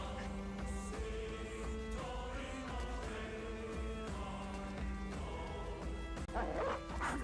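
Dog barking and whimpering in the Battle Brothers video game, a run of yips and barks repeating steadily over a constant droning game backdrop.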